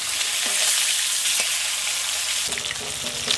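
Thick pieces of grass carp fish frying in hot oil, a loud, continuous close sizzle with occasional pops and a brief stirring clatter.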